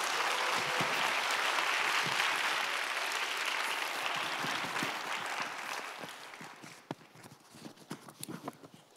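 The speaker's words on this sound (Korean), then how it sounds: "담임 목사님, 우리 박수로 맞이하겠습니다." Congregation applause welcoming the senior pastor at a church young adults' service, a broad sustained clapping that gradually thins and fades, with scattered individual claps trailing at the end.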